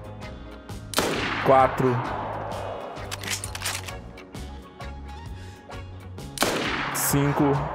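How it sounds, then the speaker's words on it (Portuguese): Sharp Mosin rifle shots in the video game DayZ, two loud cracks about five seconds apart, each with a long decaying tail, while someone talks quietly underneath. "o cara tancou 6 tiros"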